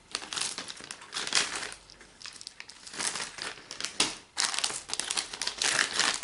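Crinkling and crumpling of a small plastic provisions bag from the Raiders of the North Sea board game, handled close up in irregular bursts of rustle with brief pauses, no talking.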